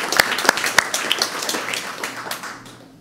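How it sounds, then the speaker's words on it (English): Audience applause at a Worldwide Meteor Day community event, opening with a few loud distinct claps before settling into a lighter scattered patter that tapers off toward the end. "Please give a round of applause to them."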